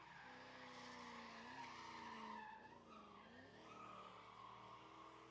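A Mustang drift car skids at a drift event, tires squealing in long, wavering screeches that rise and fall over a steady engine roar, fairly distant and continuous for several seconds.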